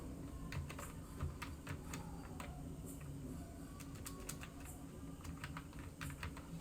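City names are typed on a computer keyboard, a quick run of close, rapid key clicks in short bursts over a steady background hum, with no speech.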